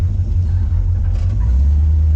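Classic Chevrolet Camaro rolling along a small-town South Carolina street, its engine a steady, loud low rumble with a slight swell near the end and no talk over it.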